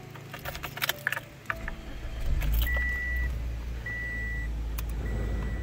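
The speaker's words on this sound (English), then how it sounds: "Before we go to bed, I'm going to turn on the car and blast the heater for 10 or 15 minutes." Someone starts a compact car at a campsite to run the heater. Clicks and handling noises come first, then the engine turns over about two seconds in and idles steadily, with a dashboard chime beeping at intervals.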